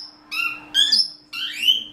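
An Alexandrine parakeet gives three loud, harsh, rising calls in quick succession, each a short squawk, close to the microphone in a quiet room.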